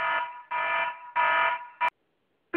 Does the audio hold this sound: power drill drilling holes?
no